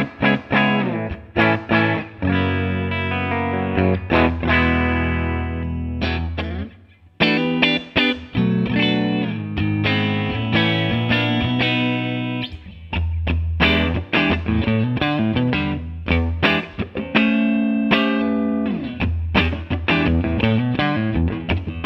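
A Telecaster played clean and dry through an amp cabinet, with strummed chords and single-note runs ringing loud and continuous for about twenty seconds, with only brief pauses.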